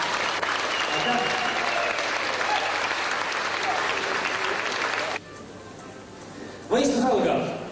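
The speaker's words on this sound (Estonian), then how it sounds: "Publikult aplaus" A bodybuilding championship crowd in 1999 in Estonia applauds loudly and steadily for about five seconds, falls to a quieter murmur, then bursts back into clapping near the end.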